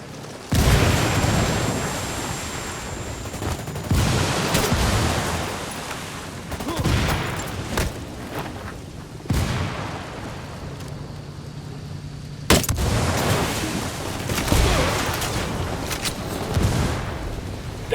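Bursts of gunfire and heavy explosions, including a frag grenade blast, crash through a Ghost Recon Wildlands firefight, loud and close, with sharp onsets at irregular intervals and brief voices between them.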